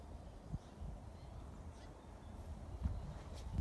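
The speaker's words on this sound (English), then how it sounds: "Bunch of birds." A bunch of birds, goose- and duck-like honks and calls on a farm with chickens and alpacas, faint and scattered over a low wind rumble.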